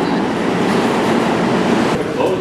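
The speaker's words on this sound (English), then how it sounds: "Wait, is this your train?" Subway train pulling into a New York station at night, a loud continuous rumble and rattling wheel noise filling the platform, with faint voices underneath.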